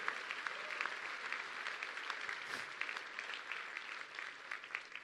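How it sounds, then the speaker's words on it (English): Steady audience applause at a talk on a secret space program alliance, a dense wash of many hands clapping at a distance, continuous and even throughout without speech. "a big round of applause for Admiral Jeremy Bourda"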